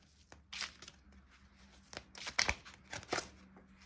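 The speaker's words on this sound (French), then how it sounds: "Je prends une dernière carte." A tarot card drawn from the deck: a few quick papery swishes and crisp card snaps, close and fairly quiet, with several short bursts over a few seconds.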